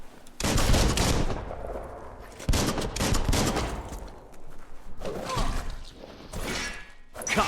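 Bursts of rapid gunfire crackle in the video game Biomutant, with several loud fusillades separated by short pauses, alongside thuds and mechanical clatter in a busy fight mix.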